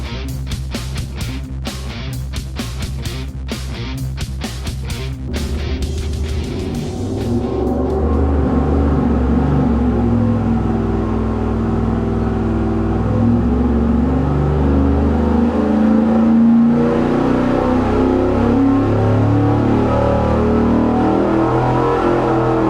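A V8 engine fitted with a Weiand Air Strike intake manifold roars on a dyno, first with rapid loud pulsing bursts, then settling into a sustained, heavy drone that holds steady and close.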